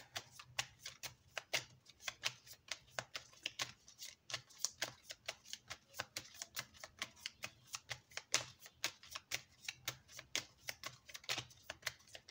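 Tarot cards being shuffled and drawn by hand, close and fairly quiet, a steady run of crisp flicking riffles and soft slaps repeating throughout with no talking.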